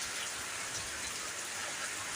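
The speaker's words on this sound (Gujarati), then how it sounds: "વરસાદ ફૂલમ ફૂલ વધી ગયો છે" Heavy rain lashes down in a village during a windy storm, a steady dense hiss of drops on surfaces filling the scene, close and continuous, with a brief louder thump at the very end.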